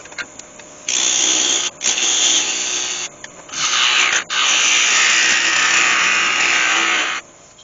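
A wood lathe tool faces off the top of a turned ash jewelry box, producing loud, close, hissing scraping in several long passes separated by short pauses, with no talking.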